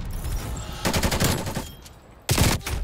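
Hip-fired LAPA submachine gun bursts in Black Ops Cold War multiplayer: two rapid full-auto bursts, the second short and punchy, loud and close with a brief lull between.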